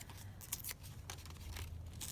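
Scissors snip and slide through a paper flower image cut from a floral book, a few crisp close cuts with rustling paper between them, no talking.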